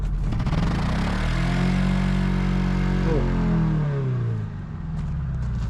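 The engine of a worn, smoking ZAZ Tavria car revs loudly from close by, rising and holding before it drops back toward idle. A brief voice cuts in over the engine.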